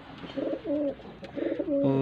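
A blue pigeon coos close by in soft, repeated throaty phrases, a few low rolling calls in quick succession.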